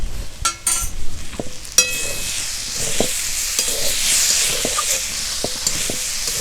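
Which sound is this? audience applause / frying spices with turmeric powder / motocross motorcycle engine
frying spices with turmeric powder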